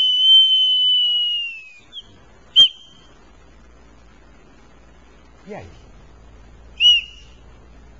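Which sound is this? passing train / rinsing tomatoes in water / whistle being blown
whistle being blown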